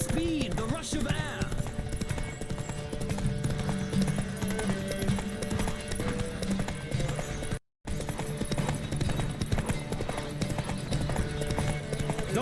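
In The Witcher 3: Wild Hunt, a horse gallops in a quick, steady clip-clop of hoofbeats over game ambience, with a brief silent gap partway through.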